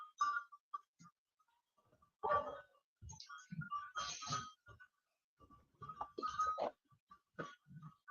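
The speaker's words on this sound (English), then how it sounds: "I like listening to them goats." Goats bleat in short, wavering calls that come and go in irregular bursts with quiet gaps between, at moderate distance and fairly soft.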